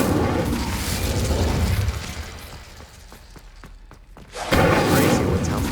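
An Incendio fire spell cast in the wizarding game Hogwarts Legacy: a burst of roaring whoosh fades into a run of faint ticking clicks, then a loud flaring rush of flame returns.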